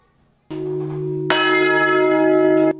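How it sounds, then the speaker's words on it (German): The old farmers' bell hanging since 1664 in a village church tower in Thüle rings out with two ringing strikes, the second brighter and louder, each leaving a long, sustained metallic hum. "1664 hängt sie im Glockenturm, die Bauernglocke."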